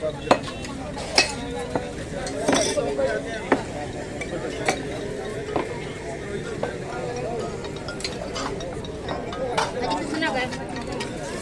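Dishes are washed at a langar kitchen run at AIIMS hospital, with scattered clanks of steel utensils and clattering cutlery over steady running noise while people talk nearby.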